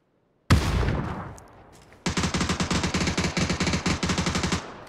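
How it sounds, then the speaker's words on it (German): Gunfire in PUBG: Battlegrounds: one sharp loud shot with a long fading echo, then a rapid burst of automatic fire with about fifteen evenly spaced, punchy reports, close and dominant. "Super daneben geschossen."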